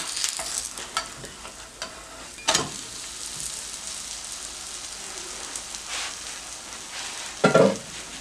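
An eggless vegetarian omelette frying in a pan, a steady soft sizzle throughout with occasional scraping and stirring clicks from a spatula.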